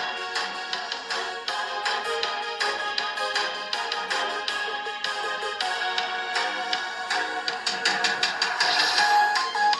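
Music or sound playing through the built-in speakers of an AYN Odin2 Portal handheld, captured from about a foot away, steady and full-bodied with dense layered tones throughout, no talking.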